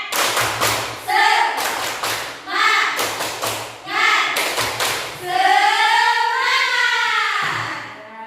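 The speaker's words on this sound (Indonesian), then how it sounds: "Sekali lagi, tepuk semangat" Students in a classroom repeat a rhythmic spirit clap, sharp patterned claps in several bursts with a chanted group call between them, close and lively.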